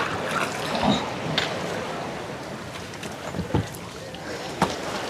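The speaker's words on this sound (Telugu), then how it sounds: "ఇలా పక్కనే ఎయిర్పోర్ట్ పక్కనే మనం బోట్లో వెళ్తున్నాం." A glass-bottom boat cruising on the sea near an airport gives a steady broadband wash of engine and water noise, with a few brief louder knocks and splashes over the constant rumble.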